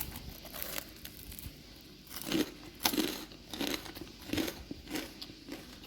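Crisp crunching bites into a crispy Padang-style shrimp rempeyek cracker repeat every half second or so, close and fairly quiet, with crinkly crackling between them.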